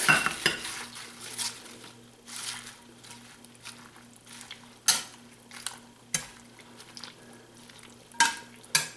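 Spinach is stirred into a simmering seafood brodetto pot, with repeated metal spoon clanks against the pot over a soft sizzle and bubbling, close and without talk.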